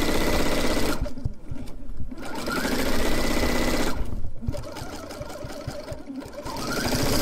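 A sewing machine stitches the seams of a flannel rag quilt in loud, close bursts of rapid mechanical chatter, pausing twice briefly between runs.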